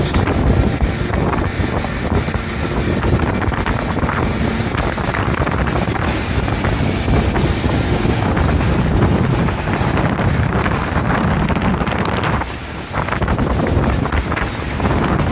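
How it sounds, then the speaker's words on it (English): Heavy wind buffeting a microphone outdoors during a street walk in Toronto, a loud continuous rumbling roar that barely lets up, with one brief dip near the end. "Okay, wind."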